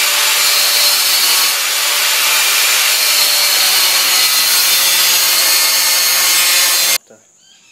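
Metal being cut and ground with a power tool while restoring a Crown No1 stove oven: a loud, continuous abrasive whine that runs steadily for about seven seconds, then stops abruptly.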